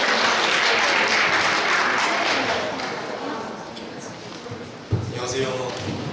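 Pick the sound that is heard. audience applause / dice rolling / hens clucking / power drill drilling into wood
audience applause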